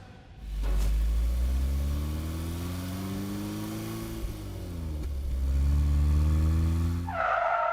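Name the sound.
car being taken out and driven off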